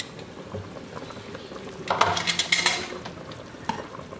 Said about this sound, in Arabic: من بعد ما غلات الطنجره ديالتنا مزيان وكي كتشوف الشعريه تفورات مزيان على هاد الشكل